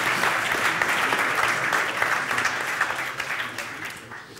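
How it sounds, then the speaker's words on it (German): An audience breaks into lively applause with some distinct individual claps, loud at first and gradually fading over about four seconds. "Ja, Mom. Applaus."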